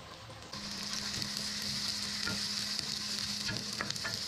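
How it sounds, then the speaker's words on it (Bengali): Spiced tempering hitting a pan of cooking meat (khashir gosh, goat meat curry) bursts into a loud, steady sizzle that starts abruptly and holds, with a few stirring clinks and scrapes over the continuous frying hiss. "এখন বাগারটা দিয়ে দিচ্ছি।"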